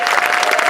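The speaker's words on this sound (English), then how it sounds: "give them all a round of applause." An audience claps in a crowded cinema at the Cinerama Dome, a dense burst of applause that is loud and close and lasts under a second.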